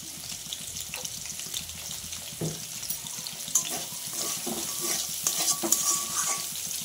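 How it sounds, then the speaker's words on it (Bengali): Water spinach sizzles softly in a pan as a spatula scrapes and taps in an uneven rhythm, close up, with no one speaking. "2-1 মিনিট একটু নাড়াচাড়া করব, তারপরে নামাবো"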